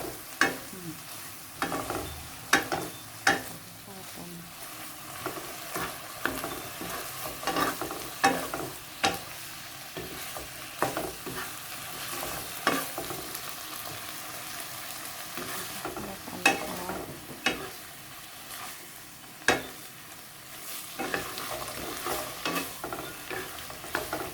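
Pork stir-fried with salt and fresh chili, the spatula scraping and clattering in repeated strokes over a steady close sizzle, with no voices.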